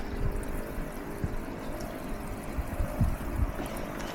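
A Myomaster MyOzone pump runs underwater, pushing a steady wash of flowing, bubbling water with soft irregular splashes and gurgles throughout.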